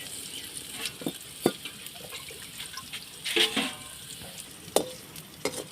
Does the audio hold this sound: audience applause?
no